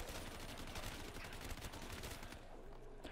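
Rapid automatic gunfire from a gun in Black Ops III Zombies, a fairly quiet continuous burst of shots that cuts off near the end, with no talk over it.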